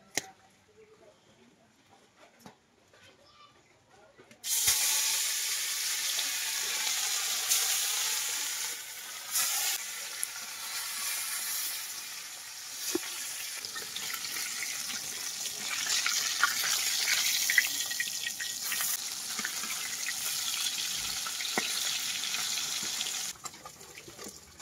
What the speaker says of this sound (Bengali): মাছগুলোকে ভেজে নিলাম